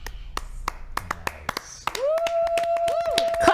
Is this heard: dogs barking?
no